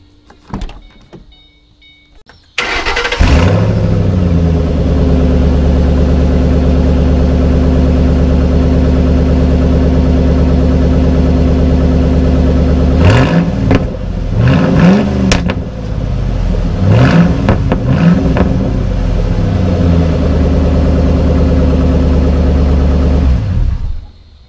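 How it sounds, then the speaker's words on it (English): A Ford GT with its muffler bypassed starts with a loud burst and settles into a deep, steady, close idle, rising in a few short revs midway before dropping back and cutting off at the end. "But I'll give you guys a startup real quick."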